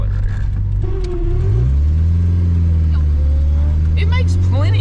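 A 1986 Nissan 200SX with a five-speed manual gearbox drives along, its engine humming steadily and climbing in pitch as it pulls, loud and close from inside the cabin, with people talking over it.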